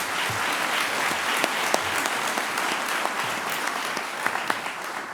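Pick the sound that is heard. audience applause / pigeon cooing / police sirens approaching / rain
audience applause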